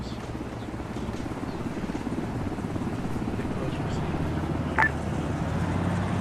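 A helicopter in a combat video game, the Casabac chopper, gives a steady, close rotor drone with a low, fluttering throb. A brief beep cuts in near the end.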